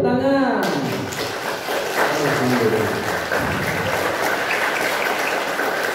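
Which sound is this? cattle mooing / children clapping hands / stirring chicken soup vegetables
children clapping hands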